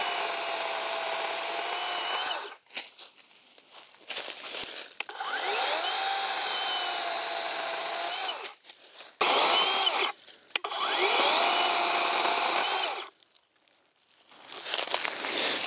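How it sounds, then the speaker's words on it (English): A Worx electric chainsaw cuts through trees in bursts, its high motor whine rising and dropping as the chain bites into wood, with quiet pauses and rustling between cuts, fairly close. "I'm using the Works electric chainsaw, which is quiet, so I don't have to wear hearing protection"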